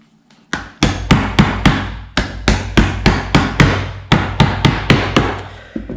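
Parts of an IKEA Alex chest of drawers being assembled with a hammer, about eighteen sharp, loud, close strikes in steady bursts with brief pauses, ringing hollow through the furniture panels.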